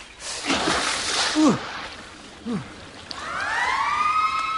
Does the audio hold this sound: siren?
yes